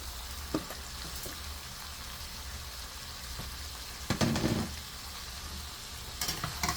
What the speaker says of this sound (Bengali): এখন এটাকে এই মশলার সাথে আর চিংড়ি মাছটার সাথে ভালো করে আমি কষিয়ে নিব